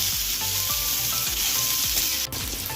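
Chopped onions and three sliced green chillies sizzle steadily in hot oil, a close, continuous frying hiss broken by occasional stirring scrapes.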